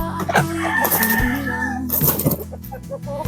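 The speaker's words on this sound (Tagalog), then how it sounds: "Nakalabas ng mga manok." Loose chickens cluck and a rooster crows loudly nearby in a rural yard, with overlapping calls and clucks throughout.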